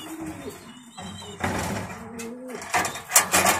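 Fancy pigeons, including a cross between King and Runt breeds, coo softly in a loft. The low, repeated calls run through the clip alongside some rustling and a few brief knocks.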